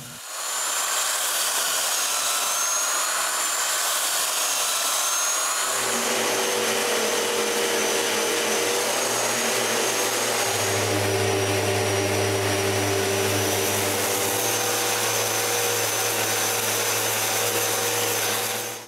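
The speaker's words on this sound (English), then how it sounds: "removing the glue squeeze out and the machining marks with a sander" A power sander works over a wooden tool cart frame, taking off glue squeeze-out and machining marks, giving a steady whining drone that shifts in pitch partway through and runs loud throughout.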